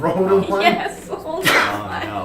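A single sharp sneeze bursts out amid overlapping conversation, loud and close, with talk continuing around it.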